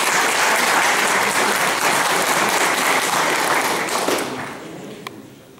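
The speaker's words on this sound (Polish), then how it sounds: "dodatkowe brawa należą się do Patryka Roza" A room full of people claps loudly and continuously for the winner of a school space-knowledge contest, the dense applause fading out over the final second.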